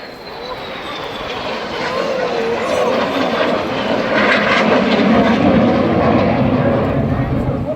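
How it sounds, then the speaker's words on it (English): Red Arrows jet aircraft flying a display manoeuvre at the Eastbourne airshow, a steady loud jet roar that swells as the aircraft pass, with a commentator's voice over it. "Each aircraft will roll the correct way up, back down to that 100 feet to make a complete manoeuvre called the boomerang."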